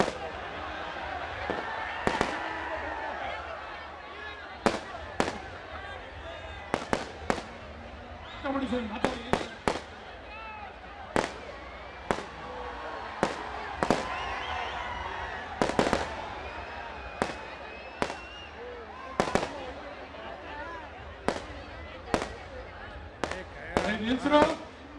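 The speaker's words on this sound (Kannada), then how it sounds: "ಪಟಾಕಿ ಹೊಡೆದು ಯಾಕೆ ಹಾಳು ಮಾಡ್ತಾ ಇದ್ದೇನೆ?" Firecrackers bursting at a Karaga festival, a long string of sharp loud bangs spaced irregularly through the scene, some in quick clusters, over crowd murmur and voices.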